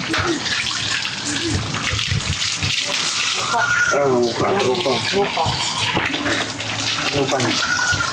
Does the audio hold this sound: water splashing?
yes